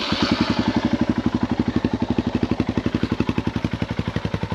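A Royal Enfield Himalayan thumper fitted with a custom exhaust idles up close, a deep, mellow single-cylinder beat pulsing in a steady, even rhythm throughout.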